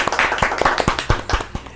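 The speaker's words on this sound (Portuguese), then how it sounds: "Uma salva de palmas!" Hands clap in a podcast studio, about eight sharp, close claps in a brisk, slightly uneven rhythm that thins out toward the end.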